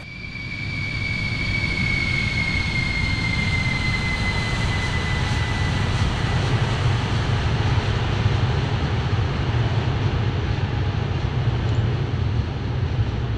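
A Boeing 747-400 jet at cruise altitude in the X-Plane 12 simulator gives a steady, continuous broadband engine and airflow roar with a faint high whine, holding at an even level throughout with no talk.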